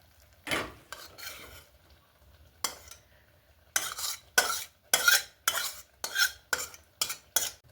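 A cooked dish of poppy seed paste with onion, tomato, mustard and green chilli is scraped out of a pan with a spoon, producing a series of close, crisp scraping strokes that grow faster and regular toward the end.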